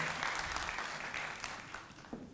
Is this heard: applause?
yes